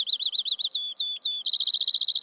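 A sparrow sings a clear, close whistled song of repeated slurred notes that speed up into a rapid trill at the end, loud and alone.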